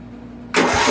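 A Craftsman rear-engine riding tractor with valve trouble turns over and catches, a faint cranking hum suddenly rising into a loud, close running engine.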